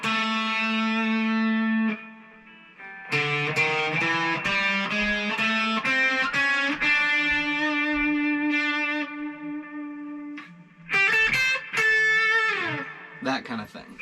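Distorted electric guitar plays a lick slowly with sustained, effect-laden notes, pausing partway through, then a quicker flurry of notes near the end, loud and up front with no voice.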